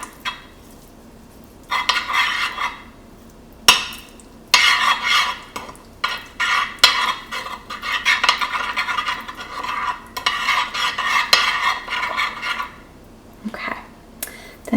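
Salt and seasoning with thyme leaves being mixed in a bowl produce bursts of brisk scraping and stirring, broken by short pauses and a few sharp knocks, close up.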